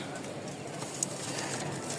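Pigeons at a market stall in Mirpur, Dhaka coo softly amid a constant bustle of background crowd noise, with one brief louder click near the middle.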